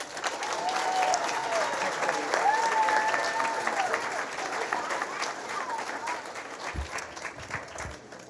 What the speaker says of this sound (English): Please give a warm round of applause for Mr. David Amber.